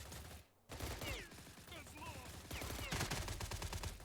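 An HK G3A1 rifle fires in a video game at a military camp, rapid automatic bursts of close, sharp shots after a brief pause, with faint game noise between bursts.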